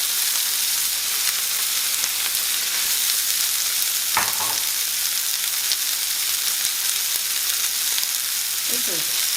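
Onion, garlic and Swiss chard stems fry in a pan after bacon, producing a steady close sizzle with occasional stirring clatter and no talking.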